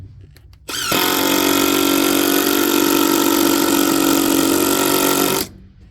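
A DeWalt power tool runs on a farm, starting abruptly after a moment of quiet, holding a loud steady whine with a strong hum for about five seconds, then cutting off suddenly.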